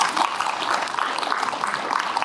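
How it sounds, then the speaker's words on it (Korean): Ceremony audience at a climate citizen policy group launch event applauds with a continuous wash of clapping, steady and fairly loud throughout. "박수 부탁드리겠습니다."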